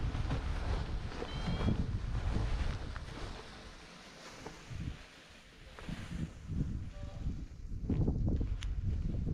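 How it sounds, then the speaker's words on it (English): Strong wind gusts across a microphone in the mountains, a loud buffeting rumble that swells and drops in surges throughout. "It was quite windy."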